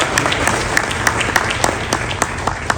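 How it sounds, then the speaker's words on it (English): Audience applause at the launch of India's first flex fuel car by Maruti Suzuki, a steady wash of clapping with sharp individual claps standing out, moderately loud and continuous throughout with no talk over it. "A big round of applause for both"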